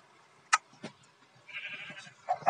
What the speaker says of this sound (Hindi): देख तेरी बकरियां